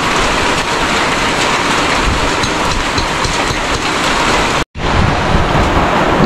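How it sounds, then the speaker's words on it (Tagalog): Steady, dense roar of heavy rain and gusting wind during a super typhoon, loud and continuous with a brief drop to near silence partway through, no voices. "So ngayon naman ulan na malamig ang dating ng hangin"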